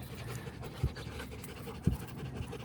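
Hungry puppies pant softly and rapidly nearby in a quiet room, a steady breathy rhythm with a couple of brief low thumps.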